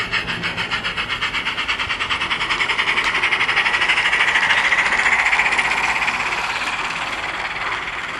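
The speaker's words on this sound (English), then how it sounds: "Very slowly the locomotive will move away." A Gauge 1 radio-controlled J94 model steam locomotive with sound moves off slowly, its rapid rhythmic chuffing and mechanical rumble swelling steadily louder and close by, with no talk.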